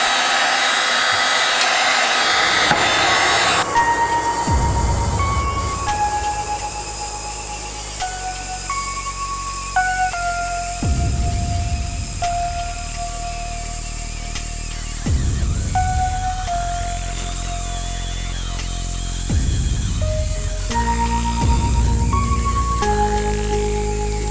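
A heat gun softening PVC pipe for a foam-cored recurve longbow blows a steady, close whooshing hiss whose pitch shifts in steps as it moves along the pipe.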